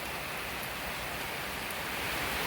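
Steady rain falls outside a house under construction during the rainy season, a constant broadband hiss that stays even and fairly loud for the whole stretch with no voices.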